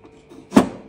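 A cutlery drawer is pushed shut but won't close all the way, giving a single short thud and knock, close by and fairly loud against a quiet room.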